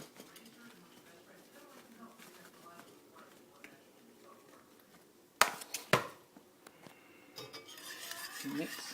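Raw chocolate ingredients being stirred in a bowl, soft scraping and clinking of a utensil against the bowl, quiet at first and then a few sharper knocks and louder stirring near the end.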